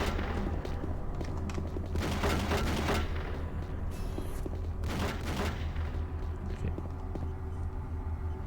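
Gunfire in Doom 3, two loud bursts of rapid shots over a constant low rumble of background game noise, no voices.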